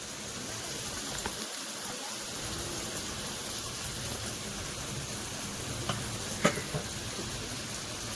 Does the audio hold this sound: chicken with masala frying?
yes